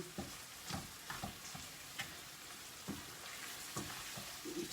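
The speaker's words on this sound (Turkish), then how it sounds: "Şimdi biraz kıymam da kavrulduktan sonra" Minced meat browning in a pan for karnıyarık, a steady sizzle broken by repeated scraping stir strokes every second or so, close up, with no talking.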